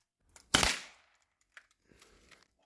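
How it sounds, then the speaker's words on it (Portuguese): A Nerf blaster fires a dart fitted with a cap, giving one sharp, loud bang that rings briefly, followed by faint small clicks and handling noises. "colocar uma espoletinha ali e estamos prontos para fazer o primeiro disparo"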